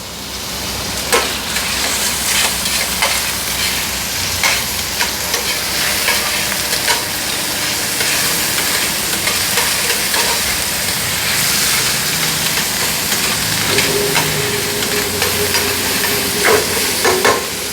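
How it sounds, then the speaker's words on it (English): Diced bacon fries in olive oil in a pan, a loud, continuous sizzle and crackle with scattered stirring scrapes and pops throughout, no talking. "So we're going to crisp up the bacon in the pan."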